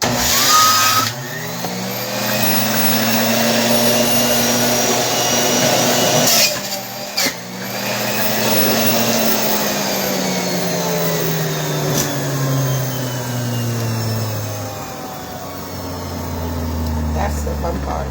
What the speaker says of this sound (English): Alright, y'all know juicing is loud,